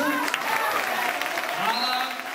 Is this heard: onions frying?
no